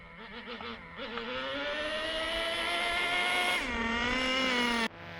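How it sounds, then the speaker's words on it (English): A nitro RC truck engine, a Traxxas T-Maxx 2.5 fitted with a Losi 3.4 carburetor, revs up into a loud, sustained high-pitched buzzing whine, climbing in pitch, dipping briefly, then cutting off sharply near the end. "There we go, starting to wake up a little bit. So I do notice that the throttle response is better."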